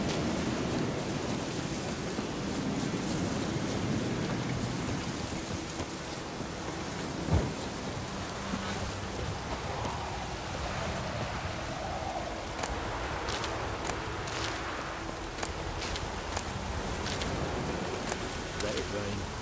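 Steady rain pours over low rolling thunder in the video game The Witcher 3: Wild Hunt, with one sharp crack near the middle and scattered drips later.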